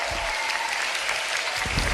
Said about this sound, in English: Can we please get a round of applause once again for Syjo?